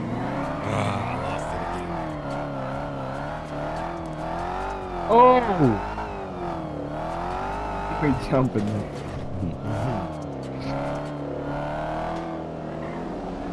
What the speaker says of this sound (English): Oh, the crackles and pops in this car here.